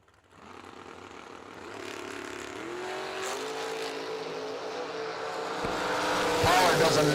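At a drag strip during the Summer Fling meet, a blue S10 pickup and a Virginia-entered '68 Camaro launch side by side, their engine roar swelling and climbing steadily in pitch and loudness, with a voice speaking underneath.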